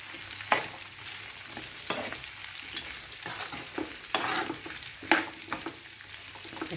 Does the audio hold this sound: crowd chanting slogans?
no